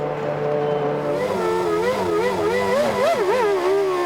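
A 1998 Formula One race car engine wails as the car comes into the pits, a steady, close, high-pitched drone that wavers and dips in pitch through the middle and end, with no voices.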